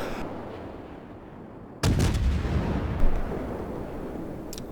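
Cleveland cruiser guns in World of Warships fire with a sudden loud booming salvo, followed by sustained rumbling and a second heavy blast, over steady low game ambience.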